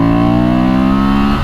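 A 2023 Honda Transalp XL750 motorcycle accelerates hard, its engine note loud, close and rising steadily in a continuous drone with no pauses, heard alone for about a second and a half.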